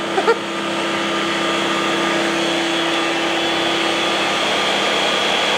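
Ninja Swirl machine spinning soft serve ice cream, a steady close motor drone with a constant hum and whirring, after a couple of small clicks at the start.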